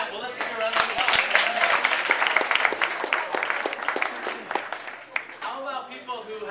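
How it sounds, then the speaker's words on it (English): A room of guests applauds at a Simple, Good, and Tasty one-year anniversary gathering, with loud, dense clapping and crisp individual claps that taper off as a voice speaks over it. "let's give you a round of applause"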